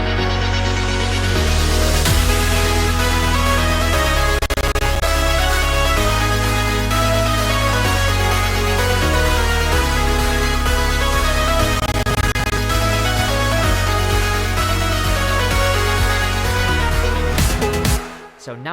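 Electronic remix section, with steady chord synths and a background pad that swells in volume, playing dense and loud throughout before cutting off near the end.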